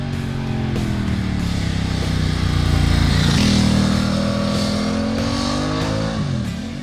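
A 2016 Ducati XDiavel S with a 1262 cc Testastretta DVT L-twin engine is ridden at speed, its loud, close exhaust and engine note rising and falling with gear changes and throttle, alone without talk.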